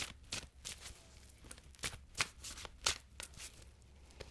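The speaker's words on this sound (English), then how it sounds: "Two more shuffles, please," Tarot cards are shuffled by hand in a close, quiet run of crisp riffling bursts and soft slaps, uneven in rhythm and with no talking.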